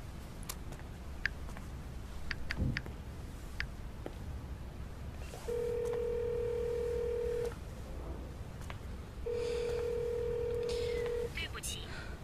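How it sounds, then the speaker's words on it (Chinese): A phone call that fails to connect: a few faint keypad ticks, then two long steady tones of about two seconds each, separated by a pause, heard through a quiet indoor room with faint background noise. "这根本打不通啊！"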